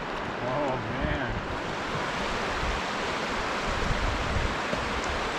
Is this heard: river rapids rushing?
yes